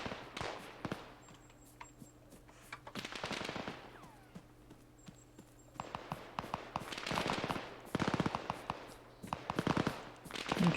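A machine gun team in ArmA 3 fires in repeated bursts of rapid gunshots, the rattling volleys coming in clusters with short pauses between them, loud and close over a low steady hum.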